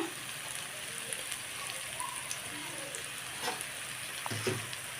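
Soybean biryani sautéing in a pan with salt and biryani masala gives a soft, steady sizzle with faint stirring scrapes and occasional clinks, fairly quiet and close.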